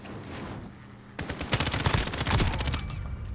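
Gunfire in Call of Duty Modern Warfare: after a quieter opening, a dense burst of rapid shots and fusillade erupts, loud and sustained, with rattling automatic fire continuing to the end.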